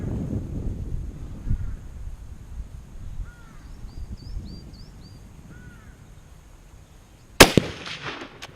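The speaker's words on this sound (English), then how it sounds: "hear the crack and thump of a proper supersonic round as it comes in" A supersonic rifle round from a Lee Enfield No.4 Mk.1* arrives at a range target as one sharp, loud crack and thump near the end, after quiet wind and a few distant bird calls.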